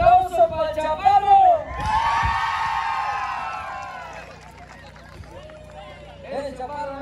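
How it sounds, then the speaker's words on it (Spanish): Spectators at a jaripeo-baile in a plaza in La Calzada, Ciudad del Maíz, San Luis Potosí, break into loud cheering, whoops and clapping for a contestant, a burst of a couple of seconds that fades out after an announcer speaks. "¡Aplauso para el chaparro!"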